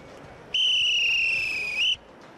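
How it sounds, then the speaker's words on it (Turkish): A single sharp, high-pitched whistle blast, held steady for over a second, rising slightly just before it cuts off, loud and close. "düdüğümü düttürüyorum"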